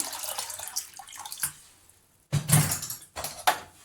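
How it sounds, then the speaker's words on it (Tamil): Water splashes and pours into a metal pan of lentils in a couple of short bursts, close by, with quiet pauses between. "நல்லா பருப்பு முங்குற அளவுக்கு தண்ணி ஊற்றி"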